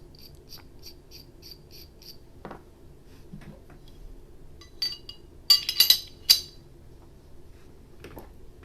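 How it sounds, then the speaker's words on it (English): A threaded barrel goes into a Glock pistol slide with a few sharp metallic clinks and clicks bunched close together, near and clear over a quiet background. "I bought a threaded barrel. And let's go ahead and slide it in."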